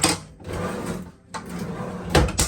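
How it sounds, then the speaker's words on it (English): Storage drawers beneath the sink in a Caravan MX16 slide out with a couple of short, close wooden scrapes and rumbles, ending in a bump. "we've got drawers that come out for storage like so"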